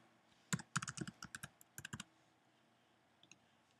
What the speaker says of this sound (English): just for fun I'm just going to type in google.com